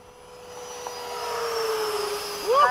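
An F-16 jet flies past with F-4s, its engine a faint, distant whine that slowly swells and rises in pitch, with a brief sharper surge at the end.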